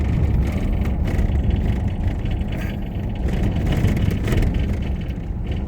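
A car drives along a road with a constant low rumble of engine and tyre noise, steady and close throughout, with no one talking.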